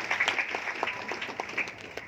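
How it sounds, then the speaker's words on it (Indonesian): Light, scattered clapping from a church congregation during a sermon, soft and sparse with individual claps standing out, over a faint background hum. "berikan tepuk tangan yang haleluya"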